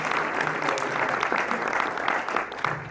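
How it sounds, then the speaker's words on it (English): Audience at a transportation technology forum Q&A applauds the panel members, a dense, steady round of clapping filling the room for a few seconds. "let's give a round of applause to our panel members"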